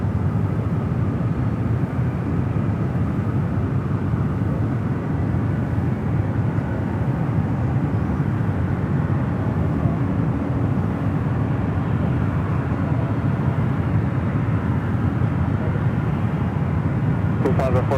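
An airliner landing at San Francisco airport gives a loud, steady broadband engine roar that holds for the whole stretch without fading.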